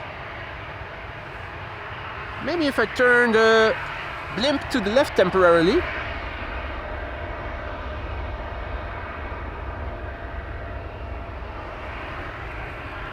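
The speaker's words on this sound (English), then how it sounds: "They're also testing an engine." At Amsterdam Schiphol Airport an aircraft engine under test gives a steady, distant drone through the whole stretch. Someone talks over it for a few seconds early on.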